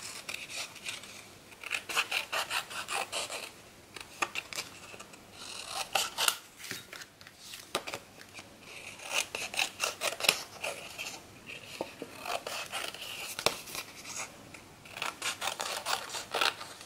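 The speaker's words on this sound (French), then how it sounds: "On va les découper au ciseau grossièrement" Scissors snip roughly through paper decorations for a scrapbook album, a steady run of close, crisp cuts and rustling paper strokes lasting throughout with no talking.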